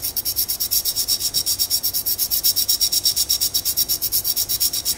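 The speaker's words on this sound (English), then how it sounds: "I have a kind of a small flat file with me which I'm going to start using to file the edges of the frame here" A small flat file works the edges of a helicopter frame in quick, even back-and-forth strokes, a close, bright rasping rhythm repeating about six times a second without pause.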